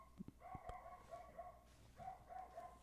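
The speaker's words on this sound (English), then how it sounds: "sorry about that, dog barking" A dog barks several times in short bursts, faint and somewhat distant, with no talking over it.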